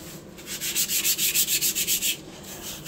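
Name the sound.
sanding 3D printer bed with 1500 grit sandpaper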